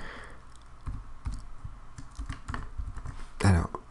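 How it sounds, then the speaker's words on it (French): Text being typed on a computer keyboard into a Word document, a steady run of close, light key clicks that ends with one louder key strike. "je clique dessus et tout simplement, je tape le texte"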